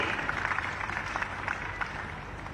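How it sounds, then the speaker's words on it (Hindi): Distant, soft applause from an audience at a pension-scheme handout event in Gumla, a steady wash of clapping with occasional sharper claps. "तालियां होती रही आपकी तरफ से"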